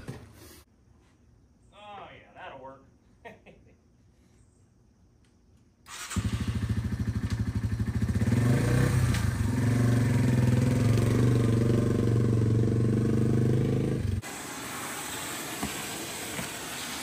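A motorcycle engine runs loud and close with a steady low rumble for several seconds, then continues more quietly; a voice is heard briefly before the engine starts.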